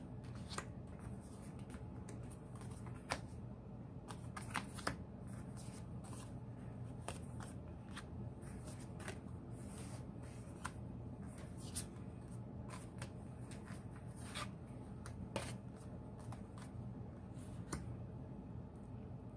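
Cards riffle and slide under a steady low background hum for nearly twenty seconds, as a deck is shuffled and handled with frequent soft flicks and snaps.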